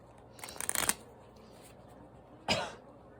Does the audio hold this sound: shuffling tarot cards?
yes